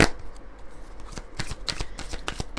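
Oracle cards shuffled in the hands, a rapid run of crisp riffling flicks and soft slaps, close and fairly quiet, with no talking.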